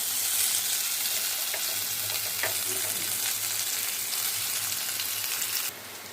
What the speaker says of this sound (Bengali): তেজপাতা দিলাম, একটু গরম মশলা দিলাম, ছোট্ট করে একটা পেঁয়াজ দিলাম